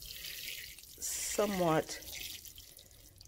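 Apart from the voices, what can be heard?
water poured into worm bin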